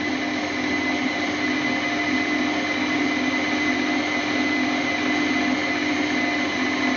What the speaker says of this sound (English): again on a nice slow speed, just whisk that in